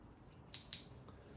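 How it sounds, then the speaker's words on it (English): Red scissors snip through electrical ties in two quick, crisp cuts close to the mic, with near silence around them. "I'm gonna need some scissors for that."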